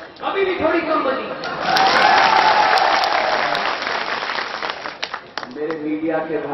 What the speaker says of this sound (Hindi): तालियां थोड़ी कम बजी थी,